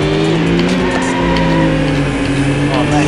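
Race cars launch at the start of a race in Need for Speed: High Stakes, with loud, close engines droning and shifting pitch as they rev up, plus a brief tire squeal.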